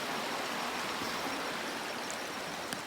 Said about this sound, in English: That must be why there's so much running water over here too.